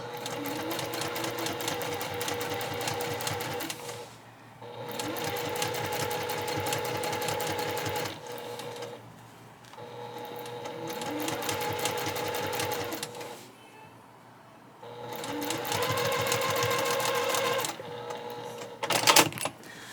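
A sewing machine quilts fabric for a tote bag in steady, rapid stitching runs of a few seconds each, broken by short pauses, close and clear with no one talking.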